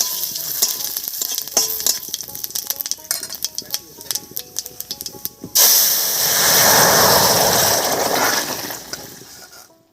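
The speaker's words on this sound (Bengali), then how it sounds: "তেল গরম হয়ে গেছে তেলের মধ্যে দেব হাফ চামচ মতো গোটা জিরা আর দুটো তেজপাতা এবার এর উপরেই তরকারিটা দেব" Vegetables hit hot mustard oil with whole cumin and two bay leaves, bursting into a loud, steady sizzle and hiss after a stretch of crackling and tapping in the pan.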